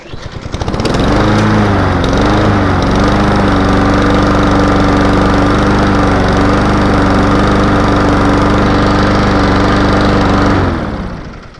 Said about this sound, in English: Sophie, I'll crank this mower up.